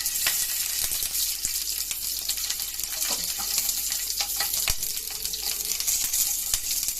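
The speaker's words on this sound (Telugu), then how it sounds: "కొంచెం సిమ్లో పెట్టుకొని అన్నీ వేయించుకోవాలండి" Whole spices such as cinnamon and cloves sizzle with green chillies in hot oil in a pan, a steady close frying hiss broken by small pops and crackles throughout.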